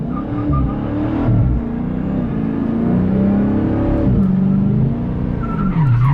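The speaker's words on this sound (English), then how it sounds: "and then you can just rip a burnout." Dodge drag car ripping a burnout, engine roaring at high revs with screeching tire squeal, pitch rising and dipping throughout, loud and close with no talk.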